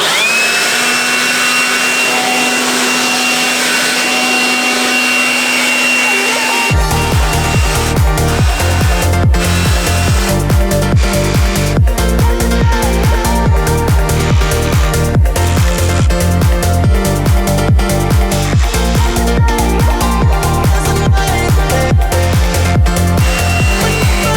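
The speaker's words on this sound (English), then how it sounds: "So I'm gonna take my leaf blower right now, and I'm gonna try to blow all this off" Leaf blower clearing ice off the ground on a farm, a loud continuous roar near the microphone that starts after a quieter stretch and holds steady with rapid rattling pulses throughout.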